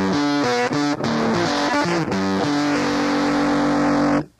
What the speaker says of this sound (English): There's distortion at the flick of a finger.